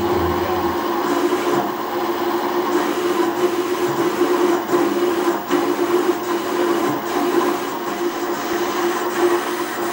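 A toolpost grinder mounted on a lathe runs continuously with a steady, loud mechanical whine and a rattling, clattering texture, unbroken for the whole stretch.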